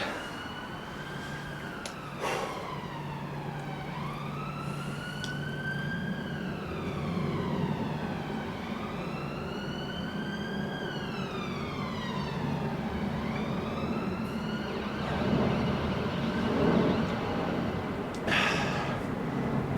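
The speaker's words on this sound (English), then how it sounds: "Just the sound of the sirens coming to get me" Wailing emergency sirens rise and fall in long sweeping cycles, with a sharp higher yelp layered in, sounding fairly close over a steady background hum.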